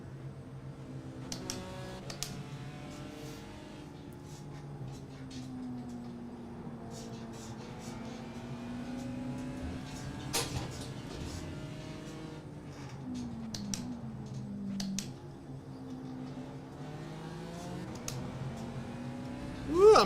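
A race car engine in the iRacing simulator drones and rises and falls steadily in pitch through shifting revs and drifting, with a few sharp transient clicks and a brief loud burst at the end.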